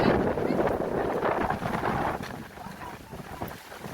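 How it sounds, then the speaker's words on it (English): Loud, roaring gusts of hurricane wind buffeting the microphone, a dense rushing noise that eases slightly toward the end. "the sound of the breeze. The breeze is crazy."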